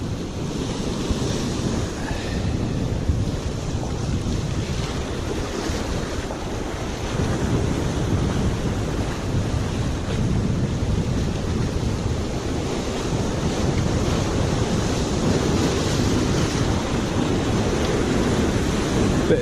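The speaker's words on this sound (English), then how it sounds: "Bit of swell coming through" Sea swell washing against rocks on the North Cornwall coast: a steady, continuous surf roar with wind buffeting the microphone throughout, with no voices.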